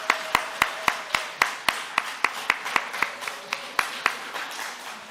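Steady rhythmic clapping in unison, about two claps per second, at a church Sunday service celebrating a new baby, with no talk over it.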